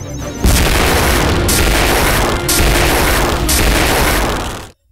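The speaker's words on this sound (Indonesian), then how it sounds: "tiba-tiba muncul meriam musuh yang lalu langsung menembaki mereka" Enemy cannon fire from the Heavy Object anime booms in a loud, sustained barrage, with heavy blasts landing roughly once per second before cutting off abruptly.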